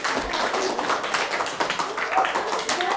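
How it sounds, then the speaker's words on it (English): Audience applause at a poetry teaching event, dense steady clapping from many hands filling the whole stretch, with crowd noise mixed in. "Give her a round of applause"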